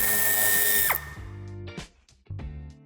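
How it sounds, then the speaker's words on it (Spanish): Power drill driving out screws from the wheel arch lining of a Škoda Kodiaq, a loud whirring run that stops abruptly, followed by two shorter bursts with brief pauses between. "En los pasos de rueda quitaremos los 3 tornillos que tenemos a la vista."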